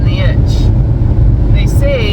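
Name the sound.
Hyundai Tucson SUV being driven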